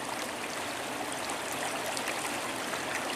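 A steelhead fishing stream flows steadily at close range, a constant broadband rush and gurgle of moving water with no breaks and no voices.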